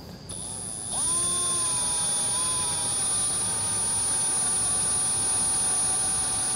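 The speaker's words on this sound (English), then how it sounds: "So I'm going to take a drill and just drill my corners out." A power drill bores out the corners of plastic trim on a 2024 Kia Carnival, spinning up about a second in to a steady, close, high-pitched whine that holds to the end.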